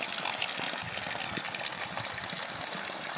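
Water running from a drain pipe at an old Irish farmhouse after about eighteen hours of heavy rain, a steady close gushing hiss that stays even throughout, with no talk.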